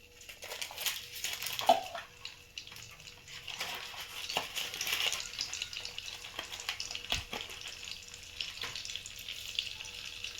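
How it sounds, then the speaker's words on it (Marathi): Butter melting and frying with three spoons of oil in a hot kadai, the base for a restaurant-style matar paneer gravy: a steady, moderately faint sizzle and crackle with a few sharper pops, and no voices. "कढई गरम झालेली आहे त्याच्यामध्ये तीन चमचे तेल घातले त्याचबरोबर बटर घालून घेऊया"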